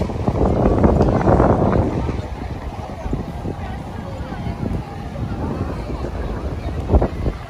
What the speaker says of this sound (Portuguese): Tá ventando bastante hoje.